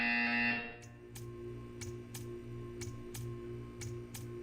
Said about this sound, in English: You will hear a buzzer. When you hear a buzzer, stare at the art.